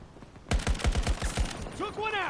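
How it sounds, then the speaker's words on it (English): Rapid burst of about six loud gunshots from a sniper rifle in the shooter game Battlefield 4, followed by whistling tonal effects and no talk. "That sounds like a sniper."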